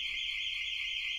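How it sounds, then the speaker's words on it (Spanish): A burglar alarm goes off during a stage play, a loud, piercing electronic tone held steady and unbroken throughout, with no voices over it. "Es una alarma antirrobo."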